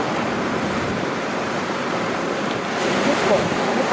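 Onshore surf at Irago, small typhoon-driven waves roughly belly to shoulder high, rolling in as a steady broadband wash with wind noise, swelling a little louder toward the end.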